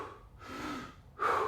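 Close-up Wim Hof style breathing, two strong breaths heard near the microphone, a long drawn inhale followed by a sharper, louder rush of air at the end, with no talking.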